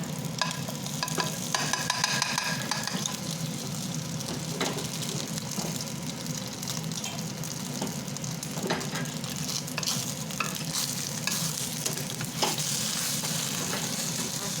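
Spinach batisapta fries in ghee in a pan with a dense, continuous close sizzle that carries on evenly, with occasional scraping and soft clinks of a utensil.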